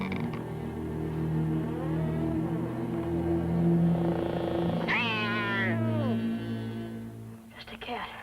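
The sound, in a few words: cat meowing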